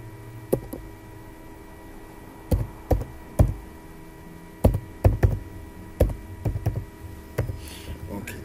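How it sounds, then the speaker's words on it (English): A phone number is typed on a keyboard: about a dozen sharp, irregularly spaced taps and knocks, fairly close, with quiet pauses between them and no talking. "I'm just typing this particular number."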